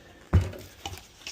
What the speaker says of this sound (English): Going to mix that with some fine ground coffee.